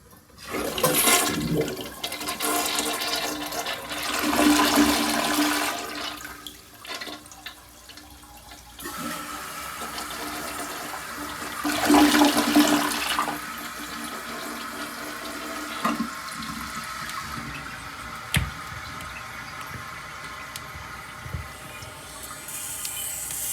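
A 2006 American Standard Cadet toilet with a failing fill valve flushes: loud rushing bursts of water, then a long, steady hiss of the tank refilling, with no talk.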